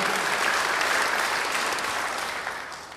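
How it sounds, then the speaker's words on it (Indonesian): A church congregation breaks into applause during an Indonesian sermon, a dense, even burst of clapping that fades slightly toward the end. "Beri tepuk tangan yang baik bagi Dia."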